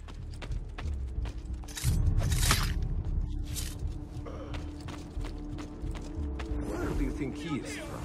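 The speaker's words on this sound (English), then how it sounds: "Open the door, open the door, open the door." A door-opening mechanism in the video game Assassin's Creed II, with grinding creaks, ratcheting clicks and clanking gears rising and falling over several seconds amid footsteps and game ambience, fairly close and continuous.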